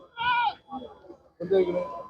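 A goat at a livestock market bleats twice, a short wavering cry followed by a longer one after a brief pause, close and fairly loud.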